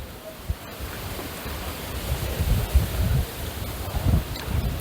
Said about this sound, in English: the wind's twisting the fucking umbrella